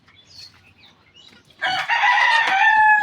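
A rooster crows loudly and close by at a homestead where ducks and chickens are kept, the harmonic call bursting in after a quiet stretch of faint birdsong and holding strong to the end.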